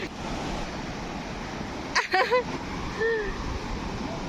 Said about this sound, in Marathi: हा एवढा लांब असा सुंदर बीच आहे